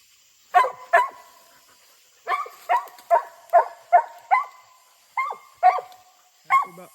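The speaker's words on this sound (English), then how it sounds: "she barked at it first" Hunting dog barking at a treed raccoon during a night coon hunt: about a dozen sharp, loud barks in irregular bursts, some doubled, close by with no talking.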